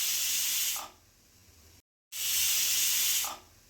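A pressure cooker on the stove cooking tomato bath: two loud, steady steam-release hisses, separated by a brief silence.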